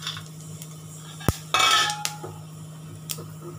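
Whole spices and leaves tempering in oil in a pan for a mutton curry, with a low sizzle under sharp clinks and scrapes of a metal spoon against the pan.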